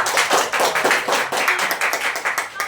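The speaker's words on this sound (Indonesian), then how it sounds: "Yola, boleh tepuk tangannya." Classroom students clapping in a quick, uneven burst, individual hand claps close and distinct in a rapid rhythm for a few seconds with no talk over them.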